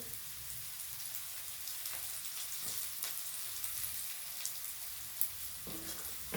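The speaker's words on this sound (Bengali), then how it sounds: "দিয়ে আবারও একটু ভেজে নেবো এই দু তিন মিনিটের জন্য একটু ভিজিয়ে নেব যাতে রসুনের কাঁচা ভাবটা না থাকে" Onion frying in a pan with garlic paste and bay leaves, a soft steady crackling sizzle like light rain, fairly faint and continuous, with a couple of stirring touches near the end.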